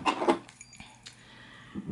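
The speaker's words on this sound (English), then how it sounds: "Here's the two set of keys." Two sets of keys for a Kwikset SmartKey padlock jingle briefly, a short metallic clinking burst at the start and another near the end, faint and close.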